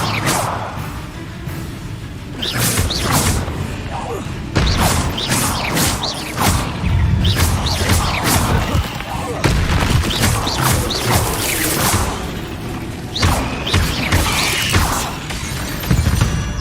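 A fire spell goes off in the Hogwarts Legacy video game amid combat, with loud crackling, whooshing bursts and crashing impacts piling up continuously over sixteen seconds.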